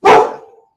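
A dog gives one loud, close bark that rings out and fades in well under a second, heard alone indoors.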